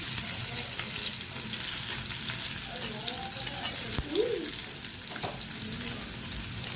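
Onion and garlic sautéing in a pan for ginisang alugbati, a steady broadband sizzle with faint stirring scrapes, held at an even level throughout.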